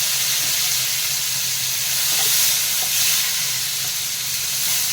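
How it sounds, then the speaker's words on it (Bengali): Black cumin seeds and tomato sizzle in hot oil left from frying bhola fish, a dense, steady close hiss with faint crackles throughout. "এই তেলের মধ্যেই দিয়ে দিলাম কালো জিরা আর দিয়ে দিলাম টমেটো"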